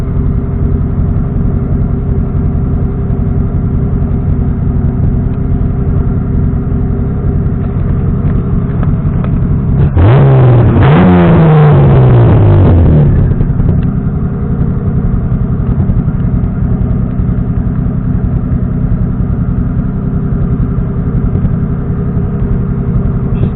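A tuned car engine, cold on first start, idles steadily. It gets a sharp blip of throttle that revs it up and then drops back to a loud, even idle.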